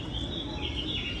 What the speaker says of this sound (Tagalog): May mga maririnig kang ibon-ibon.